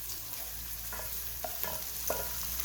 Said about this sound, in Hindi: ये प्याज हमारा फ्राई होना स्टार्ट हो गया